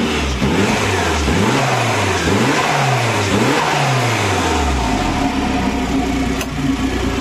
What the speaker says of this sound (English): started it up now, throttle pedal slacking back off, and it's idling much nicer than I think it ever has done